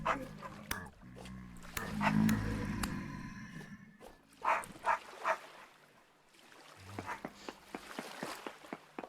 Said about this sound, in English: Apologies if you can hear the dog in the background.